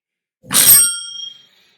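A single bright bell ding sound effect strikes once, loud and close, then rings out with a shimmering metallic tail that fades within about a second.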